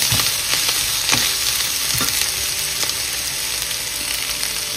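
Chopped vegetables and flattened rice for poha frying in a pan, a steady close sizzle broken by repeated scraping stir strokes, with no talking.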